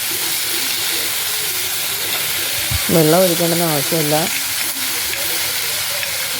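Steam hisses steadily from a covered clay pot where ivy gourd pieces cook in coconut oil, a constant close hiss running under a short stretch of speech.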